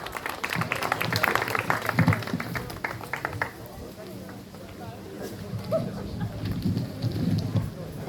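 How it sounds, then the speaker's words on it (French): Clapping from the crowd at a France koi show prize ceremony, loudest in the first three seconds and then thinning to scattered claps, with people talking over it. "Applaudissez-le s'il vous plaît."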